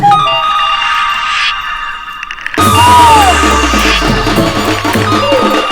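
A melodic phone ringtone plays loudly, with a brief pause before a fuller, brighter ringtone tune takes over with rising chirpy notes.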